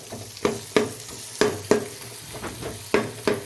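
Tomatoes sautéing in a pan for a homestyle chicken curry, with a spoon scraping and knocking the pan in a series of sharp, close strokes every half second or so over a soft sizzle.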